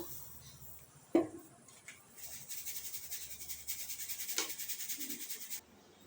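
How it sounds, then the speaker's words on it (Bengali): Ground parboiled rice being sifted through a sieve by hand, a soft continuous rubbing and shaking rasp that builds after a sharp knock and runs steadily for several seconds before stopping. "দেখো একটা চালনি নিয়েছি, এটা চেলে নেব।"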